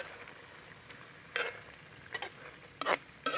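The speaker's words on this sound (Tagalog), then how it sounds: "So haluin ko ng kaunti. Haluin ko lang mga kababayan." Frog adobo (paksiw) being stirred in a pan, a few separate scraping, sizzling strokes spaced apart, moderately close with quiet stretches between.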